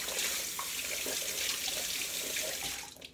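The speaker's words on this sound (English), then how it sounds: "Wash my hands again." Tap water runs steadily into a kitchen sink as hands are washed while cooking chili, a continuous close hiss and splash that cuts off near the end.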